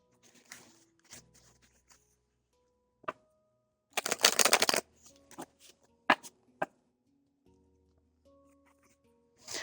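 Tarot cards are shuffled by hand in a quiet room: sparse soft taps and riffles, then one dense burst of shuffling lasting about a second, followed by a few scattered card clicks.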